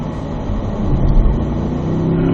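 A Corvette on a track accelerates with a rising, close engine roar that holds loud and steady, with no talking over it.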